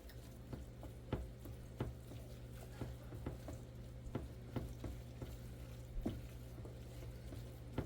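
Fried artichoke hearts being mixed for a dip, with soft repeated scraping and tapping strokes over a low steady sizzle, faint and close.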